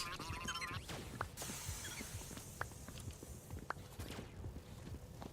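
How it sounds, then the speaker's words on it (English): Horse hooves clip-clop in the video game SEMI (Side Effects May Include): faint, scattered hoof taps sound over a busy, noisy game soundscape. "It's a horse."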